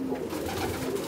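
Pigeons kept by a fancier in Kozani coo softly and repeatedly in a low, steady murmur, close by and with no talk.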